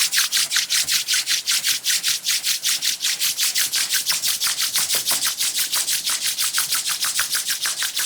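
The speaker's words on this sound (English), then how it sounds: "Rub your palms against each other." Palms rub briskly against each other during a group meditation, a close, rhythmic swishing of skin on skin repeated in quick, even strokes for several seconds with no talking.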